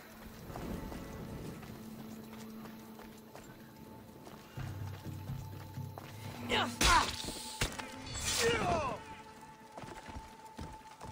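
A horse's hooves clip-clop and a mount whinnies in Assassin's Creed Odyssey gameplay, with ambient wind and a burst of action noise; a voice briefly speaks.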